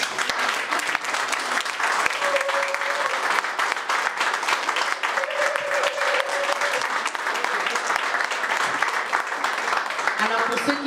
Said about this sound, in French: j'aimerais que vous puissiez vous donner à vous-même une bonne main d'applaudissement